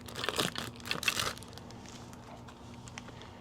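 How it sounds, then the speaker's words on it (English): Plastic wrapping on a Can-Am Spyder light accessory kit crinkles in two close bursts, then fades to faint rustling. "Comes wrapped in plastic."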